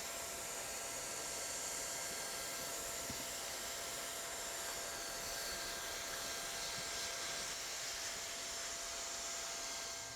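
Hot air welding gun working a GAF EverGuard PVC roofing membrane at a fluted corner: a steady, even blowing hiss, constant and close throughout with no breaks.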